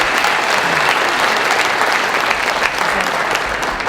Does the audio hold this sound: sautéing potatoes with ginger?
no